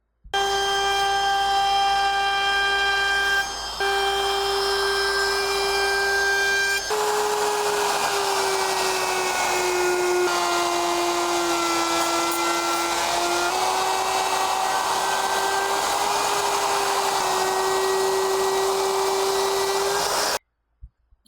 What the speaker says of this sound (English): Do a final sand of 150, and then it's ready for Rubio Monocoat.